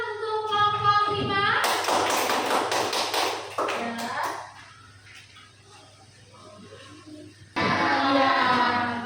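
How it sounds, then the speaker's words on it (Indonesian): A classroom group of children claps for group 5, two bursts of brisk, fairly close applause with children's voices speaking around and between them. "Tepuk tangan untuk kelompok 5"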